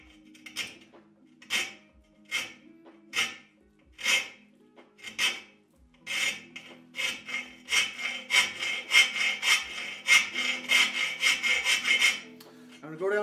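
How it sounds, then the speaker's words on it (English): A round file rasps against a metal leg in slow, separate strokes at first, then speeds into rapid, continuous scraping, loud and close. "So I'm using a round file to first come down the middle of that spot."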